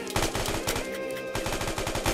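Rapid bursts of automatic gunfire in the video game Unturned crackle continuously and close by, dense and rattling.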